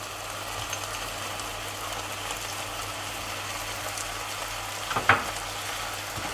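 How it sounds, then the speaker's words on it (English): Creamy mushroom sauce simmers and reduces in a pan with a steady, soft bubbling sizzle, and a short spoon scrape comes near the end; no one speaks. "Give it a bit of a stir and let it reduce down."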